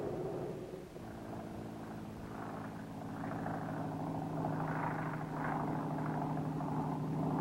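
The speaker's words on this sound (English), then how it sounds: "a chartered airplane was in the air at daybreak with an aerial survey analyzer" A chartered airplane flies at daybreak on an aerial radiation survey, its engine drone steady and continuous throughout, with a low propeller hum and rising broadband roar, no voices.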